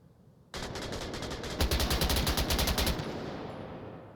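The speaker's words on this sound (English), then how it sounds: "And Dolo just trying to shoot through the wall there" Rapid automatic gunfire in the VR shooter Onward, a competitive match, as a player fires through a wall; loud sustained bursts start abruptly, intensify into fast rattling volleys, then cut off, leaving a fading tail.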